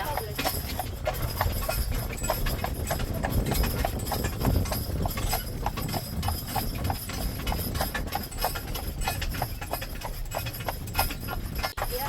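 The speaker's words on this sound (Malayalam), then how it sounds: "കുതിരവണ്ടി ഓടിക്കുന്നത് നമ്മുടെ ചേച്ചിയാണ്" Horse hooves clip-clop steadily and rhythmically as a horse-drawn carriage rolls through Killarney National Park near Muckross House, with an even ongoing rumble of wheels beneath the hoofbeats.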